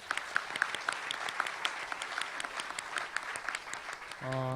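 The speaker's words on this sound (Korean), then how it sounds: "뜨거운 박수 한번 부탁드립니다" Warm applause fills a business forum hall, a thick, continuous patter of many hands for several seconds before a voice begins to speak at the end.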